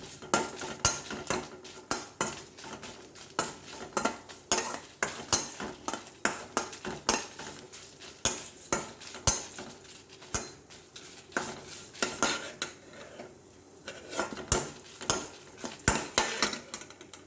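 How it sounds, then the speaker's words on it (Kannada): Ingredients are stirred and roasted in a spoonful of oil in a pan over medium heat, repeated scraping and clinking of a spoon against the pan with a faint sizzle underneath. "1 ಸ್ಪೂನ್ ಎಣ್ಣೆ, ಮೀಡಿಯಮ್ ಉರಿಯಲ್ಲಿ ಇದನ್ನು ಹುರ್ಕೊಳ್ತಾ ಇದ್ದೇನೆ."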